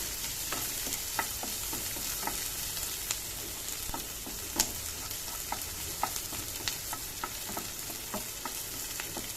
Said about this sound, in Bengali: দেখো একটু ভাজা ভাজা হচ্ছে